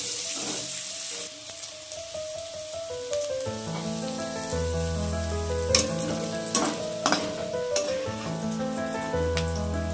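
Vegetables fry and sizzle in a pan for a cheese Maggi noodle dish and are stirred now and then. The steady crackle stays close while a melodic background tune plays along.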